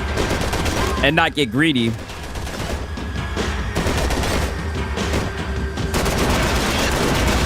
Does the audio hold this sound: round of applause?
no